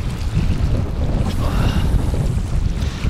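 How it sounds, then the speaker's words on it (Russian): Strong wind at a fishing spot outdoors, buffeting the microphone with a loud continuous low roar and rumble that swells and dips throughout. "Но ветер, блин, весь кайф ломает."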